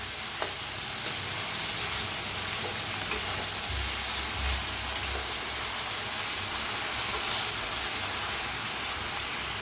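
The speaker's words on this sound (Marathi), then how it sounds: "1 मिनिटभर असं भाजून घ्यायचं।" Long strips of sliced cabbage sizzle and fry in a hot pan as they are stir-roasted, a steady close hiss with occasional soft stirring scrapes and taps, no voices.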